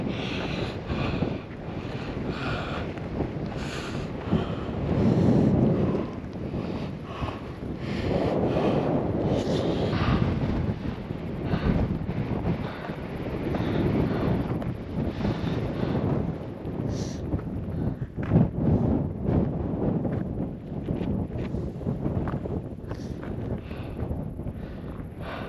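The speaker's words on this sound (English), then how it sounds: "It's getting windy" Strong wind gusts roar across the summit of Mt. Elbert during a mountain hike in Colorado, buffeting loudly and continuously close to the microphone with no talk.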